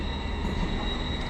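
British Rail Class 745 electric train running close by, a steady rail rumble with a high whine and faint wheel squeal, no voices.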